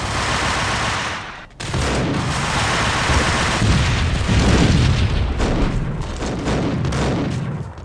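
Loud, dense shotgun gunfire and booming blasts from the Max Payne video game fill the whole stretch, with only a brief dip early on and no talking.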